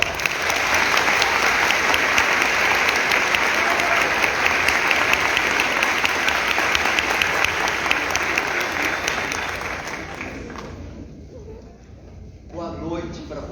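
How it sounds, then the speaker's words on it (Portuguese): Sustained audience applause in a hall for a speaker at a lecture on psychopaths and sociopaths, dense and steady for about ten seconds before fading, with a voice starting to talk at the very end. "Por favor, uma salva de palmas"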